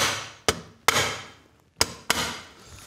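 A hammer handle delivers light taps on a Simson moped engine part during an engine rebuild: four sharp knocks, close and clear, arriving in two pairs with short ringing decays between them.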